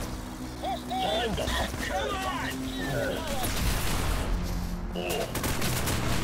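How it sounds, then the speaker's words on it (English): A sentry gun fires steadily in the video game Rogue Trooper Redux, a dense volley of shots running through the whole stretch, with voices and other in-game effects mixed over it. "Sentry gun coming up!"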